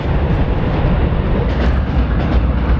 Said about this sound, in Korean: 바로 위에서 전철 지나가니까 좀 시끄럽기도 하고 위험해 보이기도 하네요